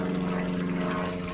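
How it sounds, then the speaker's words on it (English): A noisy propeller airplane flies overhead above a garden pond, giving a steady, loud droning hum that fills the whole stretch without rising or fading, with no talking. "Excuse the noisy plane going over."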